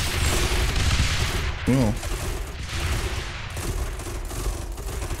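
Mortar fire and explosions from the tower-defense game Rogue Tower crackle as a dense, continuous barrage of small bursts and booms at moderate volume, with a brief spoken word from a player partway through.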